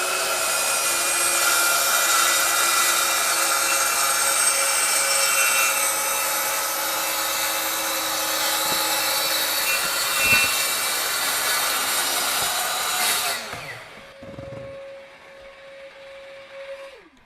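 A RIDGID 18V brushless track saw rips through material with a loud, steady whining drone that runs for about thirteen seconds, then cuts off and spins down to a fading tonal hum.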